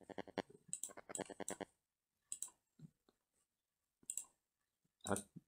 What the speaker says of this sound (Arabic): لاحظوا الآن إذا نقرت بالزر الأيمن للفأرة